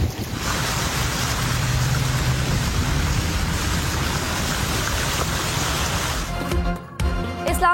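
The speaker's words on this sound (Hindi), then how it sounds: "इस्लामाबाद और रावलपिंडी में मूसलाधार बारिश" Heavy downpour in Islamabad and Rawalpindi, a loud continuous roar of pouring rain and rushing water that holds steady before cutting off near the end.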